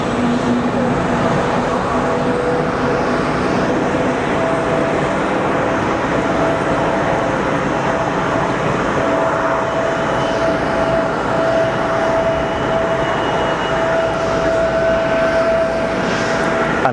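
Lufthansa regional jet at Geneva Airport, a steady, loud jet engine roar with whining tones sustained throughout, heard from outdoors with constant broadband noise.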